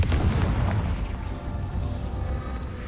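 A Confringo fire spell blasting in Hogwarts Legacy, a heavy booming explosion right at the start that rumbles and fades over the next few seconds, loud and close.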